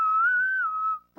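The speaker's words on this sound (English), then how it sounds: "It was a good whistle, actually." A single sustained human whistle holds one steady, slightly wavering pitch for about a second, clear and close, with no talk over it.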